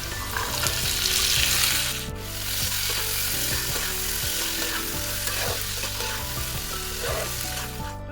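Potatoes and peas fry in a pan with a steady, loud sizzle, broken by scraping stirs that come and go throughout, over a low tonal hum.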